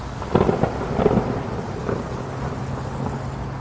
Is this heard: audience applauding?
no